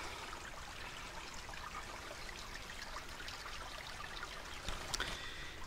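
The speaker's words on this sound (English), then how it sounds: "The water running out that way." Spring water runs and trickles out along a sandy hiking trail, a steady close wash of flowing water with a brief louder splash near the end.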